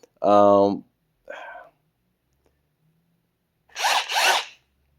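A Metabo HPT drywall screwgun gives a short, rising whir as its trigger is squeezed, followed by a weaker brief buzz, then a pause before two quick zipping bursts close by.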